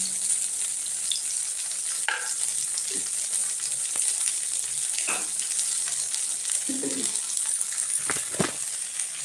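Food frying in a pan of oil on reduced heat, turned over bit by bit, gives a steady close sizzle with occasional utensil scrapes and small clinks, no talking.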